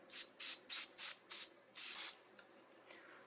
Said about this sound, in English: I'm just going to like put the comb through my hair, lift it up, and spray.